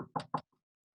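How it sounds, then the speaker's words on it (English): Three quick raps on a hotel room door, close and fairly loud, followed by silence. "So we're going to knock."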